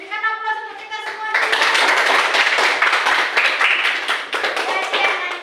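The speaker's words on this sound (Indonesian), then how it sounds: "Berikan aplaus untuk kita semua." Students in a classroom break into loud, steady applause lasting several seconds, following a brief moment of speech.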